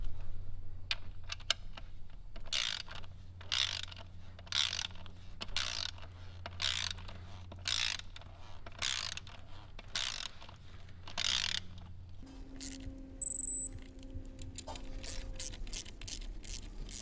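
A ratchet tightens turbo kit bolts on an S197 V6 Mustang, working in a cross pattern: a string of separate, evenly spaced clicking bursts close up, then a few faster, lighter ticks near the end.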